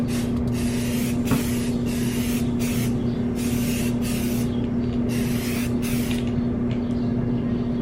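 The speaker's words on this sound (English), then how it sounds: "We're gonna go ahead and spray this black." A spray can of black paint hisses in repeated bursts of a second or two each, steady and close, with short gaps between passes.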